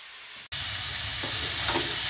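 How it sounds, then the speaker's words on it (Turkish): Liver kebab cubes sizzle loudly in a pan over low heat while being stirred, a dense, steady frying hiss with soft scraping after a brief pause at the start. "Şimdi ocağın altı kısık ateşte karıştırarak pişirmeye devam ediyorum."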